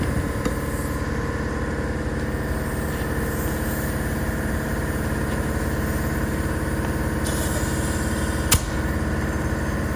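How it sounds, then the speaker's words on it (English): An air compressor runs steadily while inflating tires, giving a loud, continuous mechanical drone with a throbbing low hum throughout and a brief sharp click near the end. "of course the air compressor turns on"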